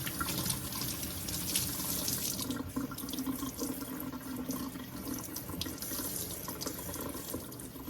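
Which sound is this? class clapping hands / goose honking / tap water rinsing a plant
tap water rinsing a plant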